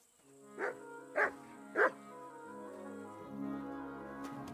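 A dog in Kingdom Come: Deliverance 2 barks three times at an even pace, sharp and clear over a sustained background tone, with no talk.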